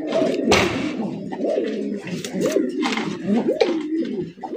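Fancy pigeons kept for sale coo close by, with repeated throaty, rolling calls overlapping one another in an unbroken stream.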